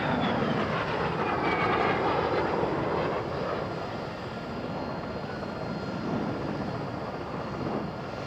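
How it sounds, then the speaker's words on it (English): An L-29 Delphin trainer and a de Havilland Vampire jet fly at a British airshow, a steady jet roar sweeping past at moderate distance and fading toward the end, with no talking. "Then, an L-29 Delphin trainer and a de Havilland Vampire."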